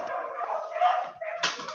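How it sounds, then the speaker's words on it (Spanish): Small dogs bark and yip in a short burst at middle distance, with a sharper yap near the end. "Mis perritos."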